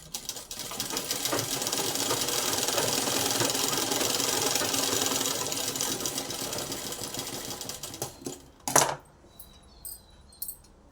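A sewing machine runs steadily for about eight seconds, stitching a double-folded hem on a crop top. It then stops, and a few short clicks and knocks follow in near silence.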